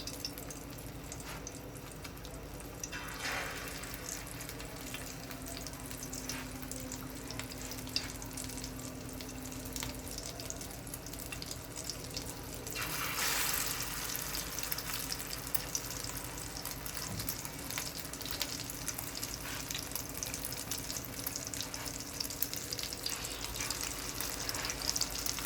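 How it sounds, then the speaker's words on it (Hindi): Aloo tikki potato patties fry in a pan over a medium flame, giving a steady, continuous sizzle close by that swells a little partway through, with no talking. "आपने फ्लेम बहुत ज़्यादा हाई नहीं रखना है, मीडियम फ्लेम पे इसको पकाना है आप लोगों ने।"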